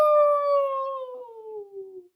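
A voice imitates a dog howling in a storybook reading: one long, drawn-out wavering howl sliding slowly downward in pitch, loud at the start and fading over about two seconds, with no other talk.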